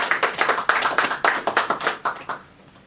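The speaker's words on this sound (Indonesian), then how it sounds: "Kita kasih aplaus untuk beliau berdua." Audience applause at a regional tax discussion event in East Java, a burst of hand claps with rapid overlapping beats that fades out toward the end, with no talking over it.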